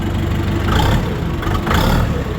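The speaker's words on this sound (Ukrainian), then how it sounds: "Мотор працює файно, тихо" A Kentavr 404 mini tractor engine runs steadily close by, a loud, smooth mid-pitched hum with slight surges, continuous and without talk.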